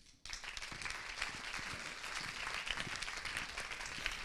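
Applause bursts out from a conference audience after a short silence, then continues as dense, even clapping for several seconds without any talking.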